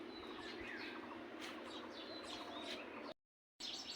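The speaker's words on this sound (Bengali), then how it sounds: "সকালে কিন্তু পাখির ডাক অনেক শোনা যায়" Many birds chirp and tweet in a busy overlapping morning chorus in a rooftop garden after rain, bright calls repeating steadily before a brief silence.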